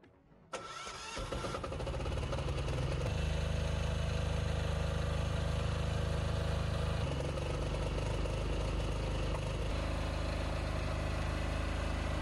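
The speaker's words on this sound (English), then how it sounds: "for now, we are just testing the generator" A generator on the roof of a steel boat starts with a sharp catch and then settles into a loud, steady mid-pitched engine drone close by, running continuously without talk.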